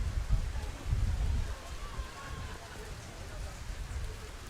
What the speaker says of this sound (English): The rain is just in an absolute downpour right now.